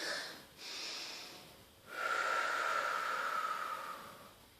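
Slow, breathy inhales and exhales during a gymnastics stretch, hissing and close, with one long airy exhale in the middle and no talk.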